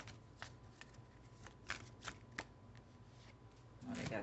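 Oracle wisdom cards being shuffled, a soft series of quick riffling flicks at close range, faint and alone.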